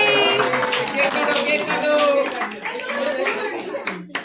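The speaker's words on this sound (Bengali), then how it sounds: "হ্যাঁ হাততালি।" Hands clap briskly and continuously at a child's birthday party while the cake candles are being blown out, with a child's and adults' voices chattering over the applause.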